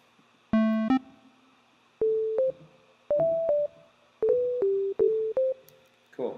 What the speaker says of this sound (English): Let's just start with a sine wave.